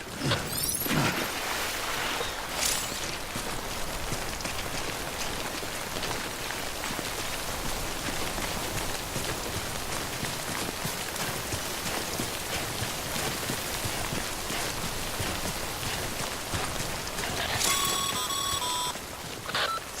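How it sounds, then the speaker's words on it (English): Steady rainfall in the video game Death Stranding, a continuous dense hiss of falling rain for twenty seconds, with a short electronic beeping near the end. "Don't stay out in the rain any longer than you have"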